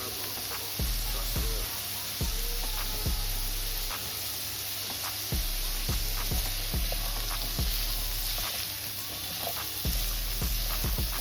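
Vegetables sizzling in a pan with barbecue sauce while braising short ribs, a steady close frying hiss punctuated by repeated low knocks and scrapes from stirring, no speech.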